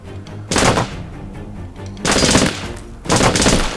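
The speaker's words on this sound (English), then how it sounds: "Taking fire!" Gunfire in the Jagged Alliance Crossfire video game comes as three loud bursts of automatic fire, each lasting about a second, separated by short pauses.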